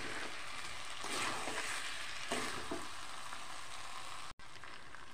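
Parboiled potatoes fry in a pan of mutton pulao while being stirred. A steady close sizzle runs throughout, with soft stirring scrapes and a brief cutout near the end.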